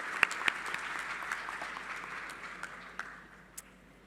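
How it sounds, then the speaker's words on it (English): An audience at a 2022 university convocation in Doha applauds, with steady clapping that starts moderately loud, includes a few sharp individual claps, and gradually fades over about four seconds. "So let's all, it deserves a round of applause,"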